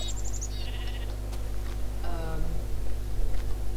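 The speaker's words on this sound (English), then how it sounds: "I don't know how that sheep got in there" A sheep in the Minecraft Tekkit modpack gives a few clear game-audio bleats over a steady low background hum, with other short game sounds scattered around them.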